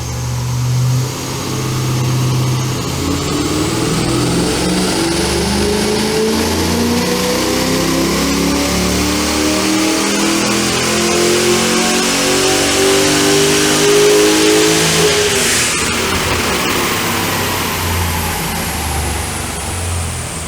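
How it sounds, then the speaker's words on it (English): A Ram fitted with a high-output 340 kW LS3 V8 and full exhaust system revs hard on a dyno, the engine climbing steadily in pitch through a long pull, loud and close, before easing off near the end. "You saw that LS3 on the dyno, high output, 340 kilowatt, full exhaust system"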